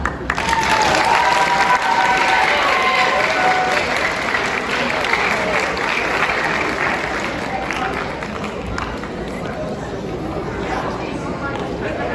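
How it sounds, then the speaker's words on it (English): Sustained audience clapping fills a school seventh-grade awards celebration, a loud, dense wash of many hands that holds steady for about twelve seconds and eases slightly toward the end, with faint crowd murmur beneath. "And now we clap."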